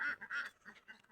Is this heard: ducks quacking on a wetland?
yes